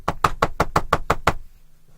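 A voice imitates knocking on a door, eight sharp evenly spaced raps in quick succession, loud and close, followed by a quiet tail.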